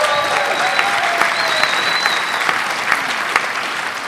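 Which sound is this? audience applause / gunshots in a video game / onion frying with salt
audience applause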